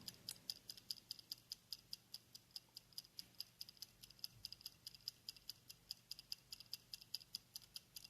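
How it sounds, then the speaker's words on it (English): An old kitchen timer with plastic gears and clockwork gives off rapid, even mechanical ticks, faint and close, in a steady rhythm of about five per second. "this one is not very refined ticking, but you do hear them very nicely."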